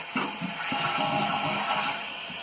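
Water trickles steadily into a lawnmower carburetor float bowl during a tabletop demonstration, a continuous close, moderately loud hissing flow with no talking.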